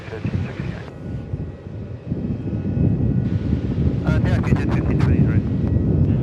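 An airliner taking off from runway 27 at Melbourne Airport, a steady broad jet engine roar heard from a distance with wind buffeting the microphone and people talking over it.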